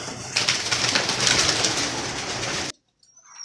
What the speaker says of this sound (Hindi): और कबूतर कमरे के अंदर है